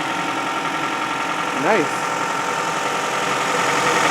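A 2007 Toyota Camry's 2.4-litre 16-valve VVT-i inline-four idles after a cold start under an open hood, a steady, even hum with a faint ticking texture, while someone briefly speaks a single word over it.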